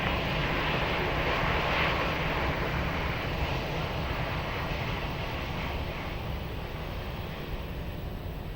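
An airplane on approach at Lisbon Airport gives a steady, broad engine roar that holds loud and even throughout, with no voices.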